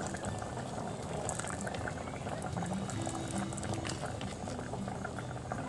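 Pinaksiw tuna with eggplant and long beans boils steadily in a pot, a continuous close bubbling hiss and patter that holds even throughout.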